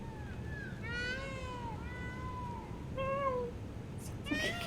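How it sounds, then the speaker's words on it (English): Rising and falling meow-like wails, likely a peacock call in The Witcher III: Wild Hunt, repeat several times in long drawn-out cries over a steady ambient background hiss, moderately loud and close. "Sounds like a cat."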